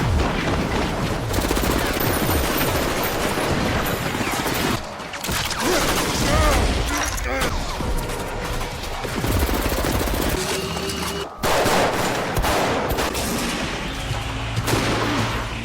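Gunfire in a film shootout between a former soldier, drug mafia and corrupt police, dense rapid bursts and loud shots over a constant action score with crashes and impacts.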